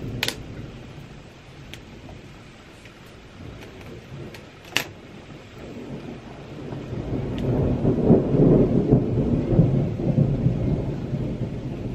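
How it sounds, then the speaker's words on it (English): Thunder during a winter evening storm, a deep rolling rumble swelling in the second half beneath faint sharp clicks and light background noise. "I don't like thunder."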